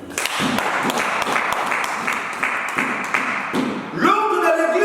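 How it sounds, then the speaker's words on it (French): A church congregation applauds and cheers in praise of Jesus, with dense continuous clapping and voices for several seconds before the clapping stops and a single voice carries on. "Acclame Jésus, acclame."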